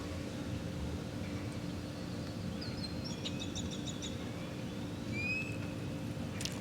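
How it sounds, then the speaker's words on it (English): Delicate bird chirps and short trilling calls, faint and somewhat distant, scattered over a steady low background hum. "All of these birds have"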